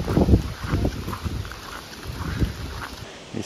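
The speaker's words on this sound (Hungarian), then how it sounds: "Azt hittük, itt a fák között nem lesz szél. De van." Wind blowing through trees at a campsite near a beach, heard as gusty buffeting and rumbling against the microphone, rising and easing over a few seconds.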